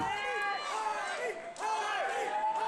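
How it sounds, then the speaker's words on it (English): Wrestling crowd chants for Matt Hardy in a rhythmic, swelling arena roar of many voices, loud and reverberant, rising and falling in repeated waves. "listen to the crowd getting behind Matt Hardy. The chants are everywhere."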